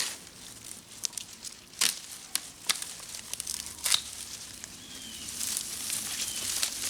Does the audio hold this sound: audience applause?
no